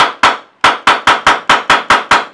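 Polarstar F1 airsoft gun with a speed trigger firing on semi-auto: ten sharp, loud pops, two spaced apart and then eight in a quick, fairly even string, with no talking.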